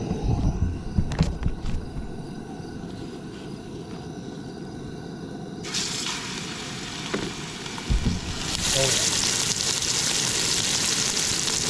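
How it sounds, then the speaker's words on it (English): Steak sizzling and frying steadily in a smoking-hot pan at a campsite, a continuous close hiss that grows brighter and louder partway through, with a few clicks and knocks of handling. "So while that's sizzling"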